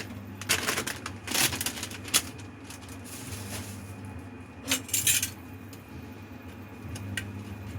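Broccoli tumbles into a hot pan beside a wagyu steak: a few clattering, scraping bursts of utensil and pan contact over a steady low sizzle, with quieter gaps between them.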